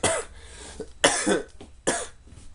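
Three harsh coughs in a row, close and loud, each a sharp burst followed by a brief rasp, with short gaps between them.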